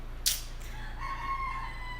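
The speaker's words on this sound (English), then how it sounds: "you hear that chicken? That's a real ass chicken." A rooster crows once, loud and close, with a clucking note before it, against a steady low hum of background noise.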